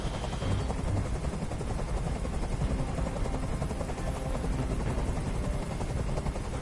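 A helicopter in the video game Detroit: Become Human drones steadily with a dense, continuous rotor roar that stays loud and even from start to finish, with no speech.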